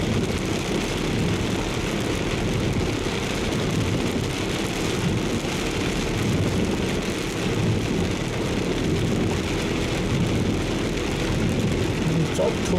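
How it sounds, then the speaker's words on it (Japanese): Heavy rain pours steadily around a car as a typhoon approaches in Kibichuo, Okayama, with a dense, continuous hiss and low rumble of rainfall throughout and no talking. "この前の台風よりちょっと、昨日から雨なのでなかなかひどいです。"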